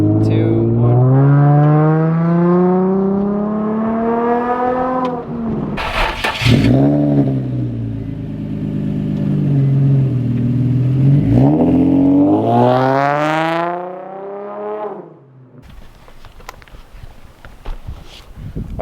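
A Nissan 350Z with a new exhaust revs hard through two long climbing pulls, the engine note rising steadily and dropping sharply between them, then idles quietly with faint wind at the end.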